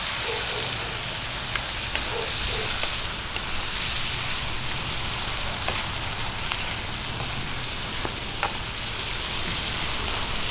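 Pork intestine adobo with soy sauce sizzles steadily in a pan while being stirred, a continuous close frying hiss with occasional soft scraping clicks and no voices.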